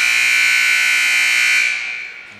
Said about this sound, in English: there's the buzzer, freshman game